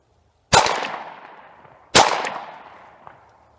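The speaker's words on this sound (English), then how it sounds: "So we're going to take a few shots just from here just to get some close-up shooting." Two loud, close Glock 19 pistol shots about a second and a half apart, each a sharp crack with a ringing decay, fired at close range outdoors.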